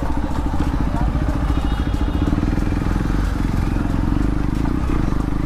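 A Hero Karizma XMR 210cc motorcycle engine runs steadily and loudly close by, a throbbing, pulsing rumble with wind noise, as the bike is ridden at a constant pace.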